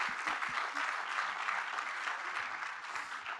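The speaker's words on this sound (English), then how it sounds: "You can clap for Jonathan Demme" An audience claps for Jonathan Demme at a conversation event with Jodie Foster, steady sustained applause from a crowd filling the room, fairly close and even throughout.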